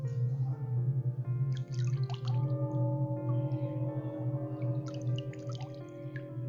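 Water drips from a stalactite into a cave pool inside a Chinese Buddhist temple, sparse plinking drops scattered over a steady low hum, faint and echoing, with no voices.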